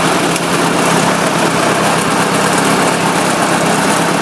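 A 1954 Ford Jubilee NAA tractor engine at running temperature, throttled down to a steady idle; a continuous, loud, even engine drone with a low rumble runs throughout, with no voices.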